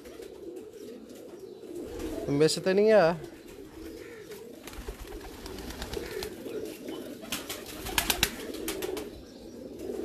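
Breeder pigeons coo softly in a loft, a low murmur running underneath men chatting, with a brief louder warbling call partway through and a few sharp clicks near the end.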